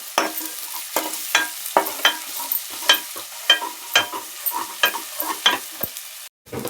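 Biryani masala and ginger-garlic paste fry in a pan for veg biryani, with regular spatula scrapes and stirs striking every half second over a soft sizzle, a brief pause near the end.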